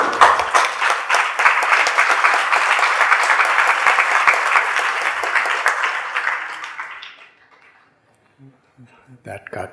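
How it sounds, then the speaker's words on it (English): An audience at a religious talk breaks into loud, sustained applause that holds steady for several seconds, then tapers off into quiet, with faint sounds afterward. "That got bigger applause than your question."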